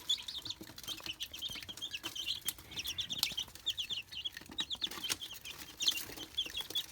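Several Australorp chickens cluck and chirp in quick, overlapping bursts nearby, with occasional soft rustling and flapping in between.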